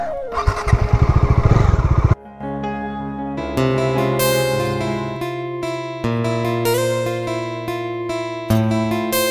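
A motorcycle engine sputters hard and close at first, then settles into a strained, steady drone as the bike labors uphill on Bhuban Pahar near Silchar, with tonal sound layered over it.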